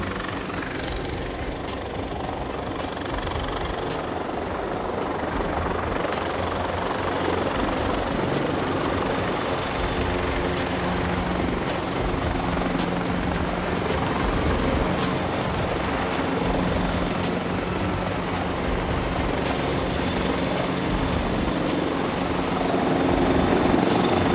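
A military helicopter hovers low over open ground while troops are set down, its rotors and engine producing a loud, continuous, dense roar that holds steady and swells slightly toward the end, with no voices heard.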